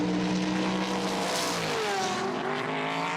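Race cars at the 24 Hours of Le Mans scream past close by, their engine notes rising and then dropping sharply in pitch as they sweep through. Loud, with overlapping engines and no talk.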